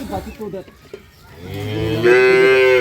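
A cow at a busy cattle market gives one long, loud, close moo that swells and holds, after a brief stretch of murmured crowd noise.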